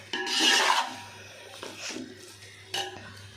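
Washed rice being stirred in a cooking pot for chicken biryani, with a gritty rasping scrape that is loudest near the start and then fades into two shorter scraping strokes, close and alone without speech.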